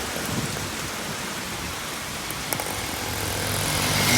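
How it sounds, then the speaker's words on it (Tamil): Heavy rain from Cyclone Fengal at a bus stand in Chennai: a dense, steady hiss of downpour that swells slightly louder toward the end, with a brief knock partway through. "மழை ஸ்பீடு ஏறிட்டே இருக்குது. தூரல் ஆரம்பித்த மழை அடித்து நவுத்துது."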